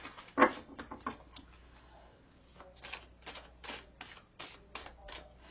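Rapid, papery clicks and flutters in short bursts, then a steady run of crisp riffling taps close by, with no one talking.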